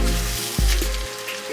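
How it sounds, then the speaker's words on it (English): A birria taco frying in a hot pan, a steady close sizzle and crackle of oil running alone for a short stretch with a brief clunk partway through. "Frying one up, y'all."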